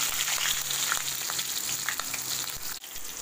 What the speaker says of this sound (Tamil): எண்ணெய் காஞ்சிச்சு லேசாக சோம்பு போட்டுக்கிறேன்